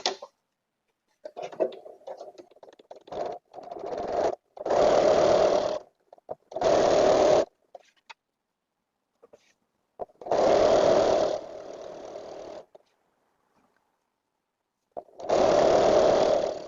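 A sewing machine stitches fabric strips, gingham among them, for a nine-patch quilt block, running in four or five loud bursts of a few seconds each with quiet pauses and faint handling noises between.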